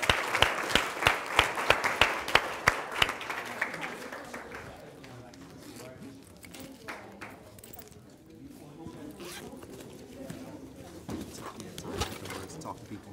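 Sharp, scattered claps open the stretch for speaker Michael Brown, then fade into a quieter room murmur with occasional isolated claps and light movement near the end.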